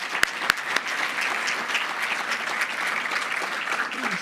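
Conference audience applause for Admiral Cosmatos at the HELMEPA sustainable shipping event at Posidonia 2022, a few sharp opening claps growing into steady, moderately loud clapping from a seated crowd that continues evenly with no talk.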